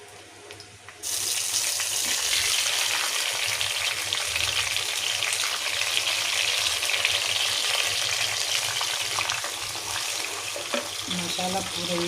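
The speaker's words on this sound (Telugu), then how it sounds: "మసాలా కూర వేగించుకున్నా." After a brief quiet moment, a spiced curry for a taro tamarind stew bursts into loud, steady frying in a pan, with close crackling sizzle and light stirring sounds continuing to the end.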